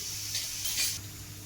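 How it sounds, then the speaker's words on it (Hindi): Curd (yogurt) whisked by hand for fulori batter: a brief, soft, wet swishing and scraping in a bowl, heard alone for about a second and a half. "अगर आपने ये अच्छे से फेंट लिया है ना दही को"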